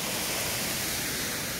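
Pumped water pours back into a lake in a steady, dense rush, constant and fairly loud throughout, with no voices.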